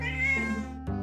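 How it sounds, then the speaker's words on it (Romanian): A domestic cat gives a close, loud, medium-length meow that slides in pitch, then starts a second, shorter call right at the end. "Un miaunat mediu poate însemna o cerere de mâncare sau apă."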